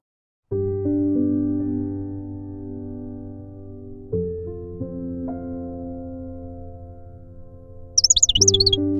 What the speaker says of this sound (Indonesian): Nyanyian angin dan sautan burung begitu indah.